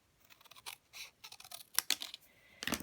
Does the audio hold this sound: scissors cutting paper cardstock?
yes